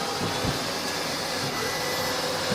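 Electric slide-out motor on a wrecked Jayco Precept RV runs in a steady, loud whirring drone, continuous throughout with no voices over it.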